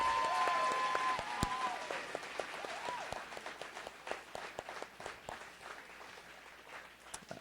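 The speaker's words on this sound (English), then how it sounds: "How about a round of applause?" Audience applause for the backstage crew at a family weekend fun show, a full burst of clapping from a seated crowd that starts strong and gradually thins to scattered claps.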